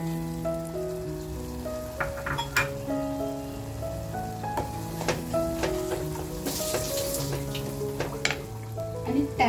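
Chopped tomatoes tipped into hot frying masala for a Bombay duck and potato curry crackle and sizzle steadily, with scraping and stirring clinks of a spoon in the pan, close and continuous without speech.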